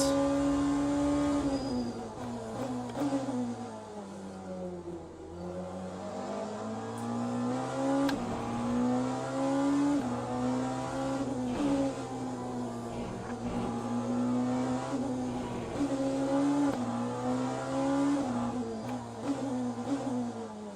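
Porsche race car engine in the Le Mans Ultimate racing game at Bahrain, a loud continuous engine howl rising and falling through gear changes and throttle lifts, with a dip and recovery midway, running steadily for about twenty seconds.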